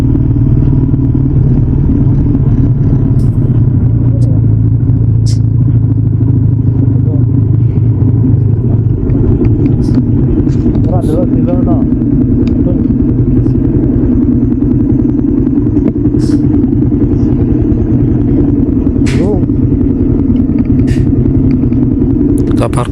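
A motorcycle engine idles loud and close as the rider parks at the roadside, a constant low rumble with occasional clatter throughout and someone talking over it.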